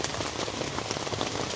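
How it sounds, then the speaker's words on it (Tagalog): Steady rain patters on the fabric of a tent pitched at a seaside campsite on Samal Island during a storm, a dense, even hiss of drops heard from inside, close and continuous with no talking. "Ay, hindi naman totally huminto. Umina lang yung ulan."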